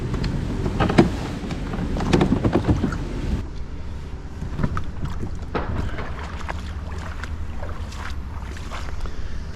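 An Old Town Sportsman PDL 120 pedal kayak glides in with its pedal drive raised. Soft water swishes and splashes sound close under light wind noise, louder in the first few seconds and then settling into a quieter wash.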